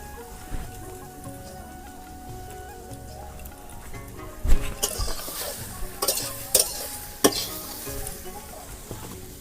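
Food stir-fries in a little oil with a low sizzle. A utensil scrapes and clicks sharply against the pan several times in the second half.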